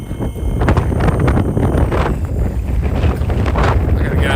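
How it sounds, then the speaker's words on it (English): Cold wind blows hard outdoors in snow, buffeting a nearby microphone with a steady loud rumble and gusty roar throughout. "I gotta get out of this wind."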